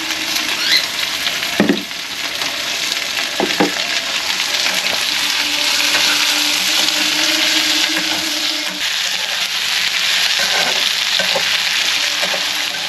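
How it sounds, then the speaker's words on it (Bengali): Diced onion fries loudly in a pan for Chinese-style chili chicken, a dense, continuous sizzle broken by a few scraping stirs. "এবার ডাইসড অনিয়নকে দিয়ে দেবো, দিয়ে এটাকে একটু নাড়াঘাটা করবো।"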